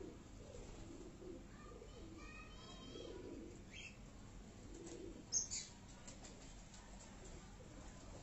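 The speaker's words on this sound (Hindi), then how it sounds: "अच्छा ये कबूतर ही है, अच्छा ये मादा है" Domestic pigeons, including a female, coo faintly on a rooftop in Karachi, with soft repeated coos, a few chirps and a brief flutter of wings in a quiet outdoor setting.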